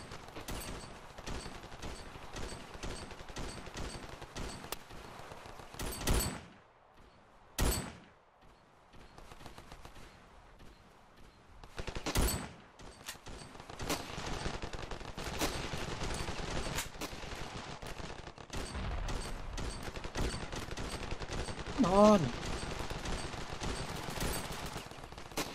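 Gunfire in the video game RavenField during a coastline battle, with dense, continuous bursts of automatic fire and single shots in rapid succession, near and far, filling the whole passage with brief lulls.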